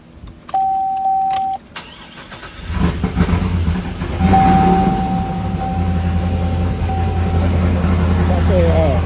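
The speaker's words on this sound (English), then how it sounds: "Turning the motor over." A 408 LS stroker V8 with a Magnuson 1900 supercharger in a Trailblazer SS turns over. Chime tones sound first, then the engine cranks, catches and settles into a loud, rumbling idle up close.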